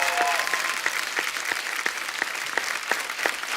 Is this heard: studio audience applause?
yes